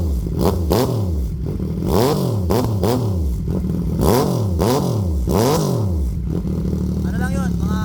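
CF Moto 675 SR-R motorcycle fitted with an IXIL full exhaust, revved repeatedly close by in sharp rising and falling bursts that build in quick succession, up to about 6,000 RPM.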